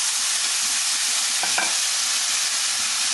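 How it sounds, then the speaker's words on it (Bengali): Fried vegetables are stirred into spices sizzling in a pan, giving a steady broadband sizzle with a brief scraping stir near the middle, close and continuous, with no talking. "আমার ভেজে রাখা এই সবজিগুলো আমি এতে দিয়ে দিলাম"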